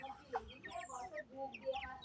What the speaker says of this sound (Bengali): এই যে পোল্ট্রি মুরগি